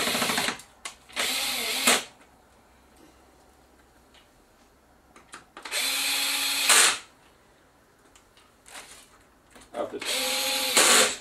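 An electric screwdriver set to its lowest torque drives silver screws with small washers into a Philips 42PF7320/10 television power supply board. Three loud, close bursts of whirring come with pauses between them, and someone talks quietly in the gaps.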